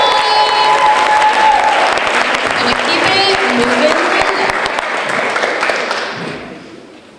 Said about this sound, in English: Let's applaud the book one more time